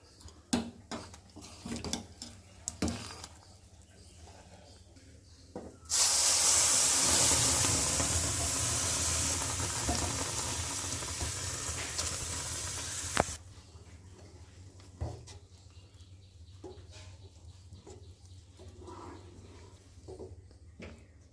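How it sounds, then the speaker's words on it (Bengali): Boiled milk poured into fried vermicelli for sweet semai, a sudden loud hissing sizzle that holds for several seconds then drops away, with scattered clinks of a pot and utensils before and after. "এর মধ্যে আমি যে ফুটিয়ে রাখা দুধটা ওটা এখন দিয়ে দেব।"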